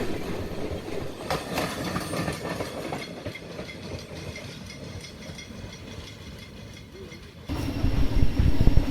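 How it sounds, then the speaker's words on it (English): A train hauled by a Russian-built TGM8 diesel locomotive rolls along a rural line in eastern Cuba, wheels clattering steadily over rail joints at a moderate distance, with the rumble growing louder and closer near the end. "Here is a similar train to ours, but on another day. This one pulled by a Russian-built TGM8 locomotive."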